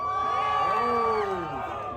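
A crowd at a rev battle cheers and whoops for a cammed Cadillac CTS-V facing a stage 3 cammed Pontiac G8 GT, a sustained burst of shouting voices at close range that tapers slightly toward the end.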